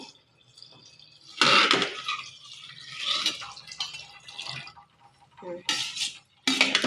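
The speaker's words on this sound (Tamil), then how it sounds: "இப்போ ரெண்டாவது பாலை ஊற்ற போகிறோம்" Second-extract coconut milk is poured into a pot of simmering Tirunelveli-style sodhi in short splashing bursts, with a voice talking over the liquid sounds at close range.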